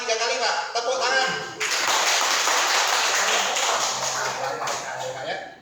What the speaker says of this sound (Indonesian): Gimana Pak kalau kita tepuk tangan 3 kali Pak? Tepuk tangan.